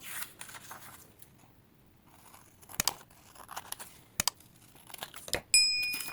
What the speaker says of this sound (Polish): I teraz ten kształt wycinam.